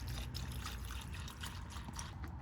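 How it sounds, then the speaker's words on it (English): CRC Evapo-Rust rust remover poured into a small plastic container over bolts in a workshop, giving a steady, faint trickling that runs unbroken from start to end. "Pour a little bit in here. Oh, it's really liquid."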